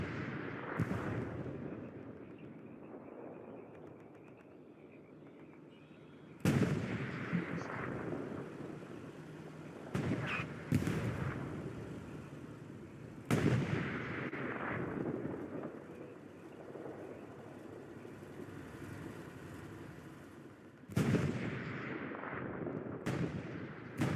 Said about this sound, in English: Whole lot of shooting going on.